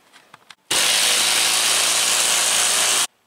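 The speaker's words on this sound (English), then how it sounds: "For the wood screws they provide, you can use a socket wrench or an impact driver." A burst of continuous loud mechanical whirring from a power tool driving wood screws into a garage wall lasts about two and a half seconds, preceded by a few faint clicks.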